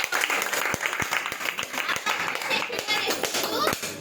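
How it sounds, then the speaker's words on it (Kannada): Loud applause from a gathered crowd at a health product testimonial event, dense clapping with sharp individual claps standing out, mixed with voices and children's chatter throughout. "ಜೋರಾಗಿ ಚಪ್ಪಾಳೆ"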